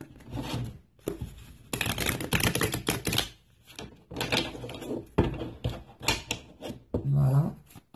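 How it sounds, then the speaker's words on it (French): Tarot cards being shuffled and handled by hand, a run of crisp papery riffles and flicks in close bursts with short pauses between them. "On va regarder ça, on va bien mélanger les cartes."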